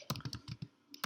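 Keys on a computer keyboard are typed in a quick burst of about six close clicks, then a short pause and two more taps, dry and near with no talking.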